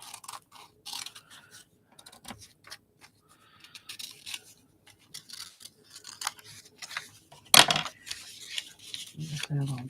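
Scissors snip around a printed picture on paper in short, close, irregular cuts, with crisp clicks and rustles broken by brief pauses, and a louder clatter partway through.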